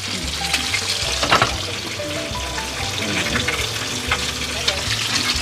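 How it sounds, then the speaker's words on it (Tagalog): Food sizzles steadily as it fries in a pan during home cooking of a family dinner, a continuous close hiss with occasional pops and stirring scrapes, no talking. "So habang dito naman si nanay, nagpiprito."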